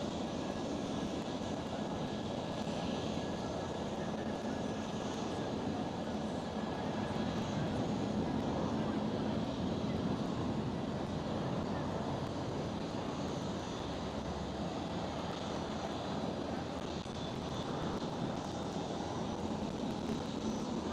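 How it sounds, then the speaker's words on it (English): British Airways airliner rolling down the runway for takeoff at Schiphol Amsterdam, a sustained, fairly distant engine roar with a faint tonal whine, steady and unbroken for about twenty seconds, with light wind noise and no speech. "the British Airways is rolling already"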